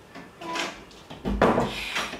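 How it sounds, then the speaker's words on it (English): A door is shut in a home, giving a soft wooden thump followed by a brief rattle, heard close with faint room noise before it. "go in another room and shut the door"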